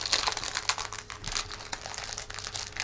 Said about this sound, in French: Je vais ouvrir ce papier.